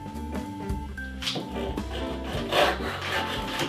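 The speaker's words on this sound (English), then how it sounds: "And cutting the dividers for the doors now." A hand saw works through small wooden dividers for the doors of a jewelry box, a quick run of close rasping back-and-forth strokes in an irregular rhythm, with no talking.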